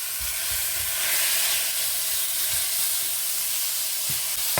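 Cubed lamb meat, 600 grams of it, sizzles steadily in a stew pot, with a broad frying hiss that holds throughout and soft clunks of meat and utensil against the pot. No one speaks.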